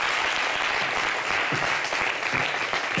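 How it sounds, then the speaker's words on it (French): Sustained applause from an audience for a dancer named Caprice after her performance on a talk show, a dense and steady clapping wash that holds at a constant level throughout. "On applaudit pour Caprice."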